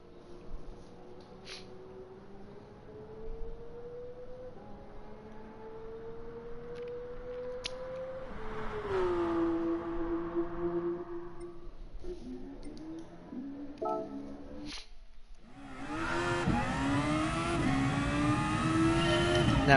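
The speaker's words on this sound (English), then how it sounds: "So let's go to something a little bit faster still, a track car." A track car in the GT Sport racing game revs and accelerates through its gears, the engine note climbing and shifting repeatedly and swelling to a loud, bright roar near the end.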